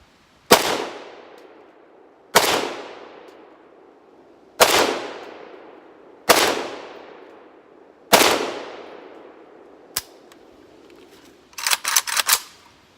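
Riley Defense RAK-47-P rifle firing five rounds of 124 grain Fiocchi ammunition at a target, loud sharp reports spaced about two seconds apart, each with a ringing outdoor tail, followed by a small click and a brief clattering burst.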